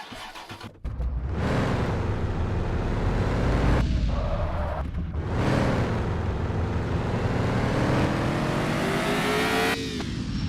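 Car engine in the video game Homeless Life Simulator, revving loudly and steadily while driving, with brief drops and gear-like shifts in pitch, continuous and close, no voices.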